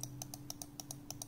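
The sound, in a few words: Aorus M2 mouse left click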